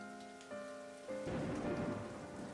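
Steady rain pours in a rainstorm in the video game Final Fantasy XIII, a dense close hiss of drops hitting surfaces over a sustained musical tone, growing heavier partway through.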